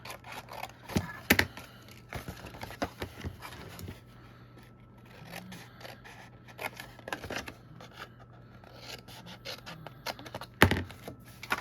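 Scissors snip corner boxes off a cardstock card kit in a quiet, close sequence of small cuts and scratches, sparse and irregular over a faint background hum.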